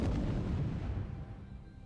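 Internal explosion aboard a warship in a naval battle game, a heavy, deep blast that hits at once and then rumbles and decays over about two seconds, alone with no talk.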